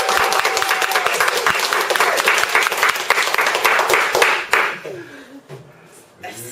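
An audience breaks into loud, close applause, many hands clapping steadily for over four seconds before thinning out, with voices starting to talk as the clapping fades.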